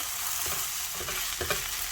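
Utensil scraping and stirring through a thick tortilla roll-up filling in a bowl, with a few soft clinks, close up and steady, no talking.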